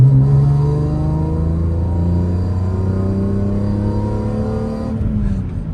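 Engine of a BMW M3 E46 revving up strongly, its steady rising harmonic growl close and loud, then easing off near the end, with no talking over it.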